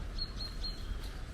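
A small bird sings in Welsh woods: three or four thin, high whistled notes in quick succession, faint against a low outdoor background.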